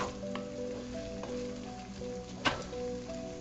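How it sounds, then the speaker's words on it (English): Ginger garlic paste frying in a pan while being stirred: steady dense sizzle throughout, with occasional soft scraping and a brief clink of the utensil against the pan. "keep on stirring and mixing it well because otherwise the ginger and garlic paste might stick to your pan"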